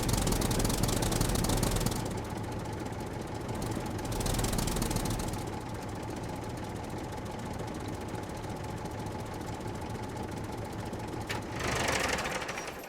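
A tractor engine in the survival game SCUM runs steadily throughout, a continuous mid-pitched mechanical drone with a knocking, idling texture, louder at the start and briefly near the end.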